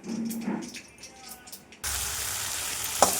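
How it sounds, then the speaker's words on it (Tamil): Mustard seeds splutter and sizzle in hot oil in a home kitchen, a steady frying hiss with small pops that swells louder partway through, following someone speaking quietly. "இப்போ இதை நம்ம கடுகு பொரிஞ்சு இது சேர்த்துக்கலாம்."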